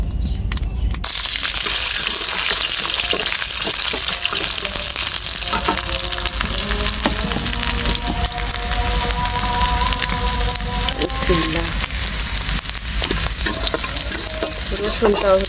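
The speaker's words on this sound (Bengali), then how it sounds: "শাকটা হচ্ছে সেঁকা দিলাম সিদ্ধ করার পরে এখন হচ্ছে বাগার দেবো রসুনটা" Garlic frying as a tempering for boiled greens, a loud steady sizzle and crackle of hot oil close by, with occasional stirring scrapes and faint tonal clinks, continuous throughout.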